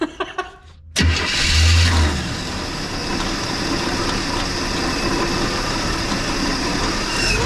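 A Chevrolet Nova that won't idle properly cranks briefly, then fires up with a loud burst and settles into a steady, rough-running engine drone, close and alone.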